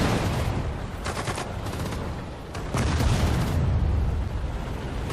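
Tank guns in the Sudden Strike 4 World War II strategy game fire in a steady, loud barrage of booming shots and rattling gunfire that fills the whole stretch with no speech.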